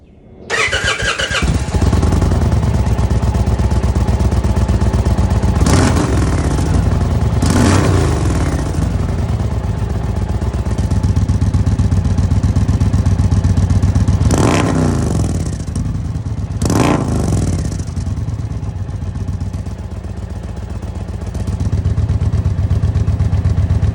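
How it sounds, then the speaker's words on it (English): An Indian Pursuit motorcycle with an open exhaust roars nearby, starting up then revving hard several times in loud bursts over a steady rumbling idle. "open them up full tilt and you get kind of like the sounds of a open exhaust"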